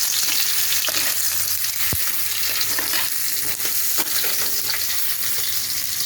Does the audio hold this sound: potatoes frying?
yes